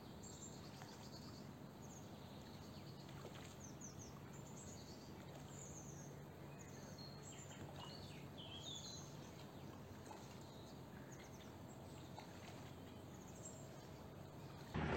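Wild birds chirp and call along a quiet, wild stretch of the Danube river, scattered distant tweets over a steady low rumble and faint ambient noise, with no talking.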